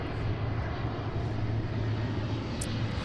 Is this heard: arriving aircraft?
yes